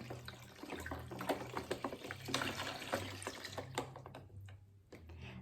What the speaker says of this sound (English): we're gonna pour in some water into our container